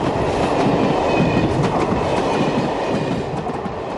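A train rumbles steadily along the tracks of the Alps line near Veynes, France, with a continuous rolling roar and faint rhythmic clatter, close and loud, no voices.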